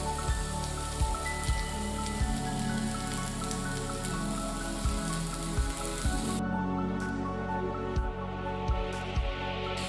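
Baby corn for tandoori baby corn tikka fries in a pan over a low flame, giving a dense, continuous sizzle broken by soft, regular thumps and clicks.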